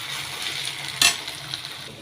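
Onion, chili and tomato with ginger-garlic paste frying in a pan for a kaleji fry, a steady close sizzle with a brief louder stir or clatter midway.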